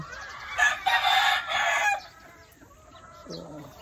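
A rooster crows once up close, a loud drawn-out cock-a-doodle-doo lasting over a second, followed by quieter clucking and faint background sounds.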